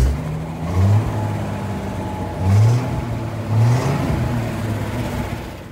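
A 1968 Ford F100 pickup truck engine idles at a low, steady rumble, swelling briefly three times as the throttle is blipped, with no talking.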